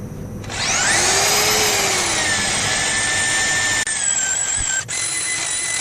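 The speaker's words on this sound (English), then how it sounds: "Got the lathe running nice and slow so we don't get splattered with" Wood lathe turning a purpleheart and maple bowl at slow speed, a steady close motor whine with a tone that rises at start-up and then holds, with a couple of brief dips.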